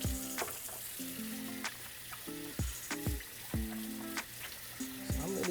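Salmon burgers sear in a hot frying pan with a steady close sizzle, punctuated by intermittent clinks and scraping knocks of utensils against the pan across the stretch.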